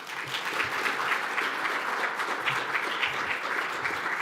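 Sustained audience applause welcoming Dr. Seán Hemingway to the podium at the 2025 PEN/Hemingway Award celebration, a steady dense roar of clapping hands from a full room, continuous and even throughout with no voices over it.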